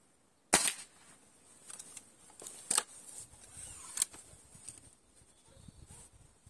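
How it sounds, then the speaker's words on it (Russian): A sharp, loud shot from a Hatsan 125 air rifle cracks once, then quieter clicks and handling noises follow, with a few smaller snaps afterward. "сделаю еще два выстрела."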